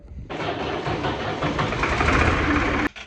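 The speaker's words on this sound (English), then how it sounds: "let's get this tractor started up" A tractor engine cranks and catches into a loud, rough running roar that holds steady for a few seconds and then cuts off abruptly.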